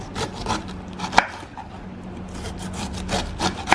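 A knife cuts pork on a board in a few short, close scrapes and light taps, with a couple of sharp knocks against the wood.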